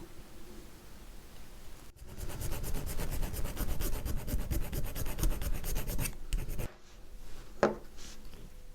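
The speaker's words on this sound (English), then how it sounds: "Okay, so I'll just file down that section, and now it fits really nice." Steady rasping strokes of a hand file against a plastic part of a 1/250 scale Yamato model ship, rhythmic and close for several seconds before stopping, followed by faint handling clicks.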